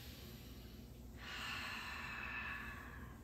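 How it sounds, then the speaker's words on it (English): A single slow, airy exhalation during a seated chair yoga session, soft and close against a steady low background hum. "Breathing."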